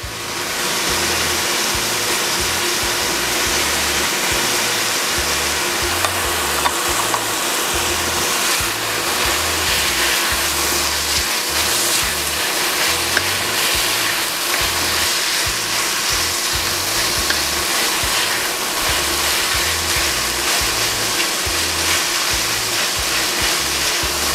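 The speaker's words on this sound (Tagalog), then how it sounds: "Hintayin lang nating mag-render ng fats ang ating bacon" Bacon rendering its fat in a pan, a loud, continuous close-up frying hiss that roars steadily without pause for the whole stretch, with no voices over it.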